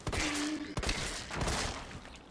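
Handgun shots in the video game Resident Evil 3, a few sharp cracks spaced apart, with two clear impacts near the start and a denser burst later over a busy game background.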